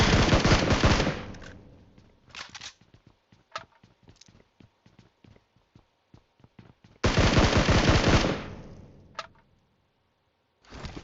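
Gunfire in the mobile battle royale game PUBG Mobile, with a long automatic burst, then scattered single shots and footsteps, and a second sustained burst, loud and close.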